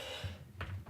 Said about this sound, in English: I'm sorry, I'm going to cough.